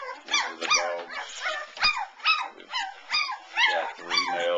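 Three-week-old puppies from a litter of a bully-type cross yip and bark in a quick series of high, squeaky little barks and whimpers, close and fairly loud, with no talking.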